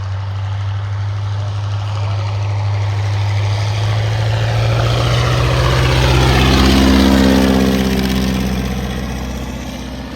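Vintage light aircraft propeller engine, a Stinson L-5/OY-1 Sentinel or Fieseler Fi-156 Storch, droning loud and steady on landing approach at an air show, swelling as it passes near and then fading slightly, no talk.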